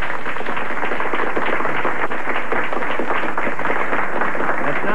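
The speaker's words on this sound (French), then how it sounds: "On va l'applaudir," An audience at a 1979 Canadian evening gathering applauds the mayor, a loud, sustained patter of many hands clapping with faint talk underneath.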